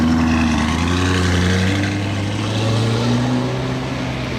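A Lamborghini Urus SUV's engine drones low and steady nearby, with a sustained rumbling tone that shifts slightly in pitch, loud and alone without talk.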